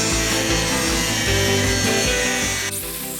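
Plate steel being cut by hand for a stealth camper build, a loud, continuous rasping saw stroke with steady rhythmic rubbing that runs throughout, then drops slightly quieter near the end.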